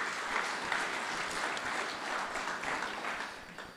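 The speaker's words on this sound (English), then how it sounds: "Can we again please give a warm hand to our chairperson?" Members at an annual general meeting clapping for their chairperson, a sustained even round of applause from a roomful of people, heard at a fairly low level with no talk over it.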